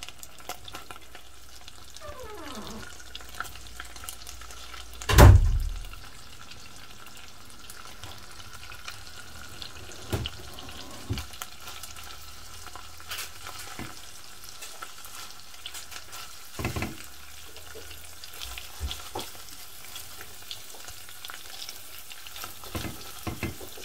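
Shrimp frying in melted butter in a pan, a steady soft sizzle throughout with a loud clatter early on and occasional light stirring clicks, no talking.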